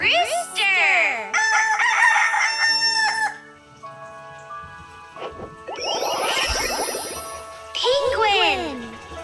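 A rooster crows loudly and close several times in a row, with clucking fowl calls between the crows and no talk over it.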